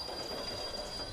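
A coal train with freight cars in the video game Workers and Resources: Soviet Republic, its wheels giving a faint, steady metallic squeal over a low rolling rumble.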